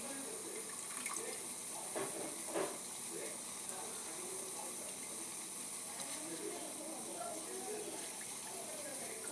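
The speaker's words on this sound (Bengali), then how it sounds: "পানি বলক দিয়েছে" Water at a rolling boil in a pot on the stove for tulsi leaf tea, giving a steady, faint hiss dotted with soft bubbling pops, with no voices over it.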